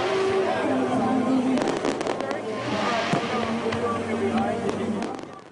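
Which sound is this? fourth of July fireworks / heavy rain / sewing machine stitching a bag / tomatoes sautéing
fourth of July fireworks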